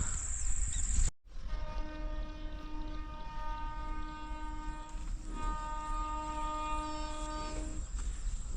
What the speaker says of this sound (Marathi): रेल्वेचा आवाज